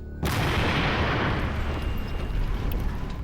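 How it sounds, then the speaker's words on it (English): A huge explosion blasting a hole in a road bursts in suddenly after a brief silence, then rolls on as a loud, dense, sustained roar and rumble for about three seconds, with no voices. "It was a great explosion."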